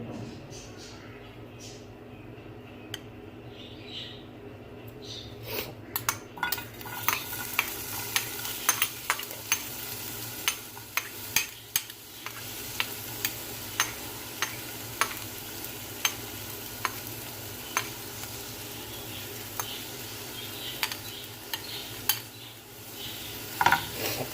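Onions frying in a small amount of oil in a pan for an egg omelette, a soft steady sizzle broken by frequent sharp scraping and stirring knocks of a utensil.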